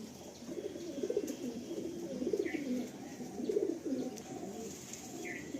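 Lalsira, Kalsira, Fulsira or Lambadi pigeons, including a female bred in Vijayawada, coo in soft repeated rolling phrases close by, with faint higher chirps now and then and no talking.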